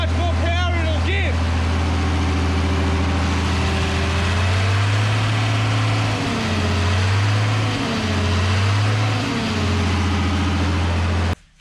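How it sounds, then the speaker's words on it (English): A Massey Ferguson 3505 tractor engine runs at full hand throttle with a loud, steady drone, then its revs rise and fall in several surges. A voice is heard briefly at the start. "that's running at full noise with the hand throttle all the way up"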